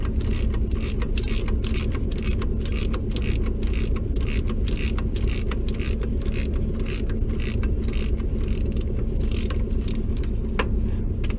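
Ratchet clicking steadily while a suspension bolt on a Ford Explorer is turned, a dense run of close mechanical ticks over constant low workshop noise with no talk.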